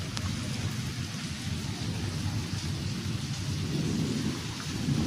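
A thunderstorm with strong wind and steady heavy rain, a dense continuous roar of rain and gusts that holds loud throughout, with a rumble of thunder underneath and no voices.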